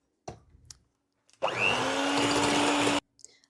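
An electric mixer whips cream for a sweet potato pie, starting with a rising whine and holding a steady, loud whir for about a second and a half, with brief clatter of handling before and after.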